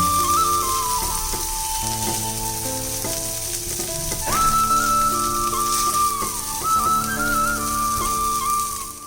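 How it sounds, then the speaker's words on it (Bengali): Prawns sizzle steadily in hot oil as they are lifted out into a bowl, a constant hiss under loud melodic background music. "এবার চিংড়ি মাছগুলো একটা পাত্রের মধ্যে আমি তুলে নিচ্ছি।"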